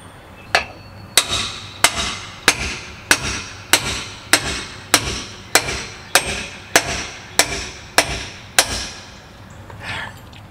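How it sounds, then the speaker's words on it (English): A hammer strikes metal about a dozen times in a steady, even rhythm, pounding a screw out of a camper trailer's axle spring hardware, each blow sharp and ringing, close by with no talking. "I just pounded that screw out of there with a hammer"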